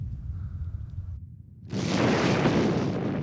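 Archive footage of a Soviet nuclear test explosion watched from about 10 km away: after a low rumble and a short silence, a loud broadband roar erupts and holds steady, dense and sustained.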